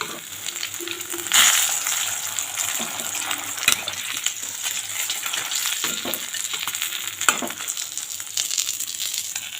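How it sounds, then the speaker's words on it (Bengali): Large hilsa fish frying in hot oil with a continuous crackling sizzle, occasional sharp clinks and scrapes of a utensil, heard up close. "মাছগুলো খুব সুন্দরভাবে ভাজা হয়ে গেছে"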